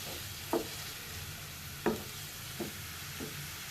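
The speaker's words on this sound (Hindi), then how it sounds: "पहले हम तमाम सब्जियों को सौते करेंगे, फिर हम इसमें शामिल कर देंगे श्रेडेड चिकन और बॉइल्ड नूडल्स।" Vegetables sauté in about four tablespoons of hot oil for chow mein filling, a steady close sizzle with a few sharp clanks of a spoon against the pan, and no talking.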